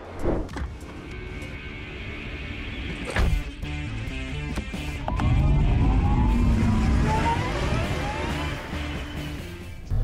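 A car driving through the aisles of the empty Brussels motor show hall, its engine rising into a loud revving surge with echoing thumps, alone and close.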